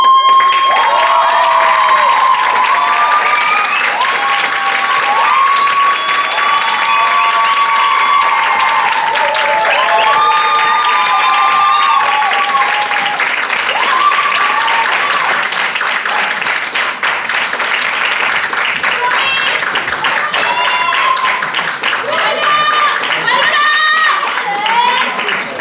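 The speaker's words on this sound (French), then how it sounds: "je vous demande d'accueillir très fort, de les applaudir chaleureusement" An audience applauds the students of a training program at a stage show, with broad sustained clapping and crowd noise mixed with tonal, musical sounds and voices running throughout.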